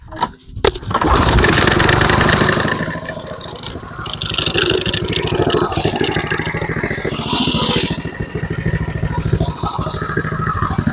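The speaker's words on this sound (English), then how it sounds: "So let's try starting it again." A snowblower engine is pulled over and catches, then roars loudly and runs at a rough, steady clatter close by.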